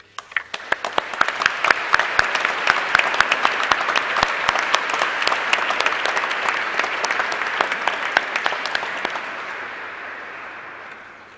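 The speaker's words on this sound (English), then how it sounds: "I'd like to invite our graduates to join me now in showing our appreciation of your loved ones and the university staff with a big round of applause." A large graduation ceremony audience bursts into sustained applause for loved ones and university staff, dense clapping holding steady for about nine seconds before thinning and fading out.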